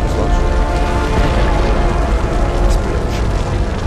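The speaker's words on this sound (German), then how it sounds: "Alter, die Explosion im Hintergrund." An explosion in the video game Assassin's Creed Chronicles China gives a dense, sustained rumbling boom with crackling debris. It stays loud and continuous for its full length, with no voices.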